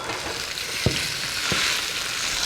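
Sweet peppers frying with browned potatoes for potatoes O'Brien, a dense, even sizzle close up, with two soft utensil taps breaking the hiss, no speech.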